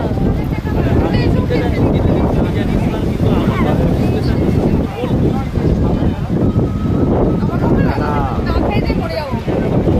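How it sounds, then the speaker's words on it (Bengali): Strong wind on a sea beach buffets the microphone in a loud, continuous low roar, with indistinct voices and murmuring underneath. "কি দারুণ যে হাওয়া।"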